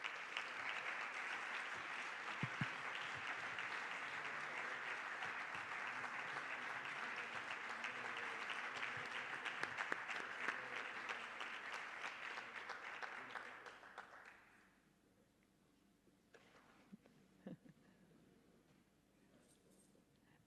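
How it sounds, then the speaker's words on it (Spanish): Sustained applause from an audience at a military conference ceremony, loud and steady for about fourteen seconds before cutting off into quiet room tone with a few faint knocks. "Un fuerte aplauso para ellos."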